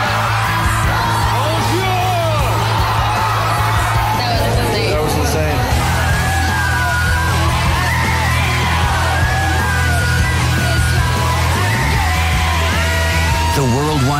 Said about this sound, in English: This is usually the part when people start screaming.